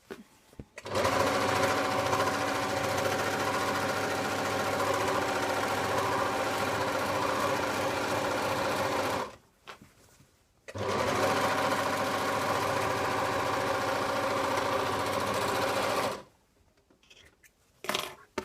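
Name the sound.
overlocker serger stitching a pillowcase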